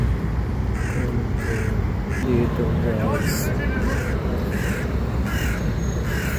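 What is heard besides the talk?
crows cawing outdoors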